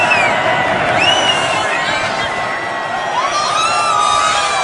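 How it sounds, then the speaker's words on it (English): A packed stadium crowd at the Army vs Navy football game screams and cheers in a loud, continuous roar, with whoops and shouts rising above the din throughout. "They're all screaming,"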